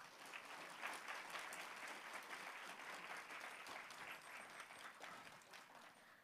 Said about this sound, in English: Let's give a big round of applause to Professor David JEWITT.